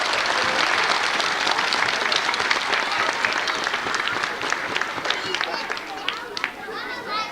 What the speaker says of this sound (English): How about another round of applause, please, for all of our students today?